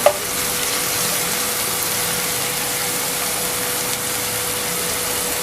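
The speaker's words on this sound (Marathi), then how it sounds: "ह्याला पण थोडंसं फ्राय करायला ठेवते" Ginger-garlic paste sizzles steadily in a hot pan while making chicken gravy, a continuous close hiss of frying with an even level throughout and one small tap near the start.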